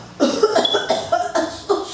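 Several harsh coughs in quick succession, close and fairly loud, with brief pauses between bursts.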